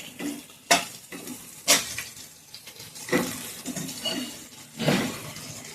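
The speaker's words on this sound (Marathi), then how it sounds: "मिरच्या आपल्या छान फ्राय होऊ द्यायच्या आपल्याला." Green chillies fry in a pan for a Khandeshi-style gangaphal (pumpkin) bhaji, with soft sizzling broken by several sharp spoon-on-pan stirring clanks, each spaced about a second apart.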